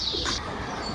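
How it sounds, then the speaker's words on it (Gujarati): Sparrows chirp faintly around a house, one short high call at the very start that fades into quiet background noise. "કાવરના ચકલાનો અવાજ આવે છે ધીમે ધીમે"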